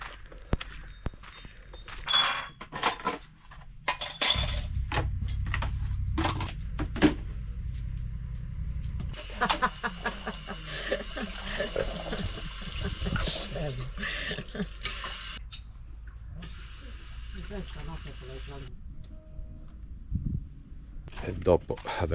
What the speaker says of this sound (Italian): Prima di tutto andiamo a fare i piatti.